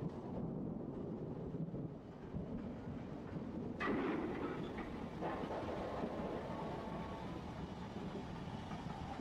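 An LMS Black Five steam locomotive runs on rails, a heavy continuous rumble that grows brighter and louder partway through as it nears.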